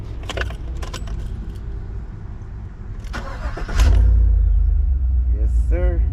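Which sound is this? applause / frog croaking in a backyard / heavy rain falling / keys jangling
keys jangling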